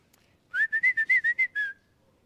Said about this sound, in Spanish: Aquí la gente se comunica silbando también